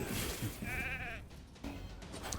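Sheep bleats in a video game, a wavering, harmonic baa cutting through busy game noise, with a second shorter bleat following moments later.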